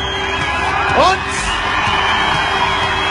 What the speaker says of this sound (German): Jubel hier am Wiener Rathausplatz